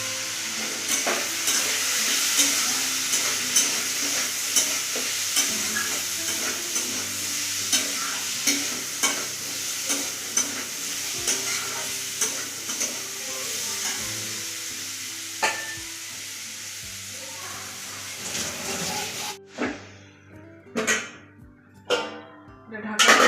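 Curry with turmeric and salt fries and sizzles in a pan, with rhythmic stirring scrapes over a constant hiss, before the sizzle cuts off and a few utensil clatters follow.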